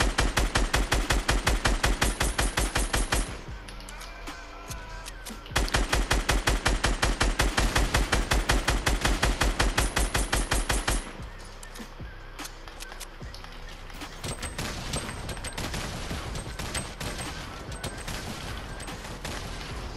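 Rapid automatic gunfire rattles in Fortnite Battle Royale, in long sustained bursts with brief pauses between them, loud and close, followed by lighter scattered shots.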